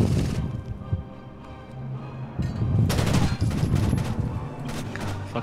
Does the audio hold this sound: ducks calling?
no